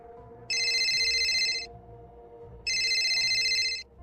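A telephone rings in two long electronic bursts separated by a pause, clear and fairly loud over a quiet background hum.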